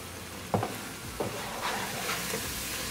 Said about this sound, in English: Cooking over the spices along with shrimp for a half minute.